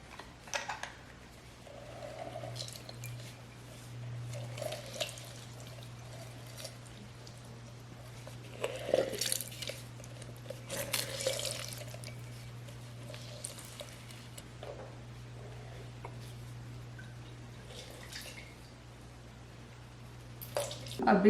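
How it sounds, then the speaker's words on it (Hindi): Fresh lemons squeezed by hand over a small amount of water for a chicken tikka marinade, with brief wet squishing and dripping bursts over a steady low background hum. "लेमन काट लेते हैं और इनको स्क्वीज कर लेते हैं।"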